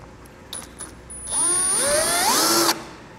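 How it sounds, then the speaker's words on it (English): A few light clicks, then a small power drill with a very small bit whirs for about a second drilling a pilot hole, pitch rising as it bites in before stopping abruptly. "I'm gonna just take a very small drill bit and kind of make some pilot holes here."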